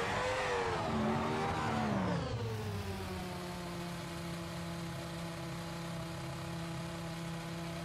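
A car engine in the Assetto Corsa racing game revs high, then drops in pitch and settles into a steady, loud mid-pitched drone that holds without a break.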